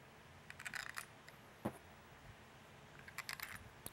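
Three long screws for a Whelen WSSC 30-watt siren speaker are handled and dropped into the housing, giving bright metallic clinks in two small clusters with a single sharper tap between them. The sounds are close and faint against quiet background noise.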